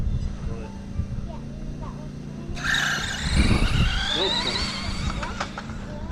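An RC drag car launches with its tires spinning, a sudden loud screeching whine that breaks in partway through and sustains with a rising engine pitch over a low background hum, close by, while people talk nearby.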